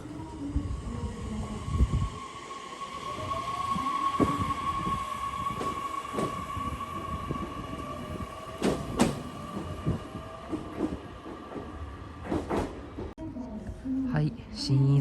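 A JR Kyushu train pulls away from Shin-Iizuka station, rumbling close by with a sustained tonal whine and rhythmic wheel clatter, and a voice speaks under it.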